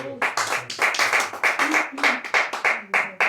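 Congregation applause at a Spanish-language church service: distinct, rhythmic clapping in bursts of roughly even beats, fairly close and moderately loud, with a few voices underneath.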